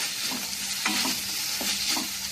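Masala pasta sautéed in a pan over a low gas flame, a soft steady sizzle broken by a few close utensil scrapes and stirs, with no voices.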